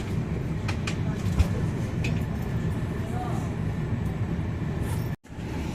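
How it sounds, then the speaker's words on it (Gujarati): Inside an Italian railway station, a steady low rumble of trains and station noise continues without pause, with a faint murmur of activity and a brief drop near the end. "તો ઇટલીના ટ્રેન સ્ટેશન કંઈક આવા હોય છે."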